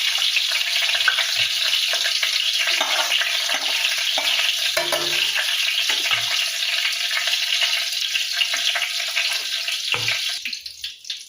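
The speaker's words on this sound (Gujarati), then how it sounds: "હવે ઘી ગરમ થઈ જાય એમાં આખા મસાલા નાખી લેવાના છે।" Whole spices frying in hot ghee in a pan, a steady loud sizzle with crackling pops that runs throughout and thins slightly near the end, with no talking.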